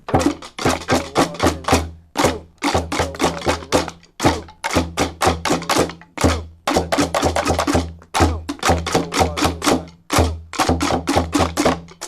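Rhythmic hits on household junk objects, clattering and knocking in a steady repeating pattern with short gaps, close and punchy.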